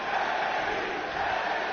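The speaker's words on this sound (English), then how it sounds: "This crowd getting hyped." A steady, dense roar of a wrestling arena crowd cheering in WWE 2K22, continuous and even in loudness throughout with no distinct voices standing out.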